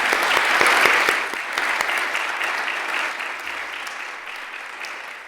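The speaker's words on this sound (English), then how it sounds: "I would like a round of applause for her efforts." Audience applause fills a town meeting hall, a steady dense patter of many hands that starts strong and slowly tapers over several seconds, heard alone without speech.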